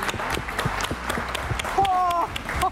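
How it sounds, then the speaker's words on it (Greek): Scattered claps from a studio audience at a televised magic show starring magician Tristan, sharp and uneven, mixed with voices and a brief high exclamation. "Και τώρα μπορείτε να δώσετε ένα πραγματικό χειροκρότημα σε αυτούς σας."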